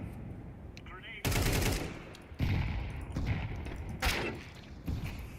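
Gunfire in a video game, with Desert Eagle shots and grenades: heavy bursts of shots and booming thumps, loud and close, with muffled background noise between them.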